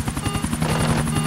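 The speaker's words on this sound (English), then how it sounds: "I finally landed in a helicopter without even dying." A helicopter in the video game GTA 4 thuds with fast, loud, even rotor beats while landing, with no talk over it.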